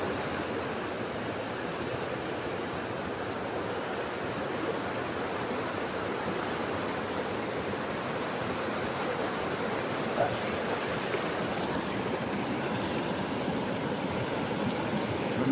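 A cold mountain stream in Kashmir rushes steadily nearby, a continuous even hiss of flowing water with no voices for over fifteen seconds.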